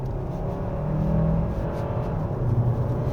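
A 2024 Hyundai Santa Fe 1.6 turbo hybrid with HTRAC pulls hard on a winding road, a steady low engine drone with a rising tonal hum, heard from inside the cabin throughout.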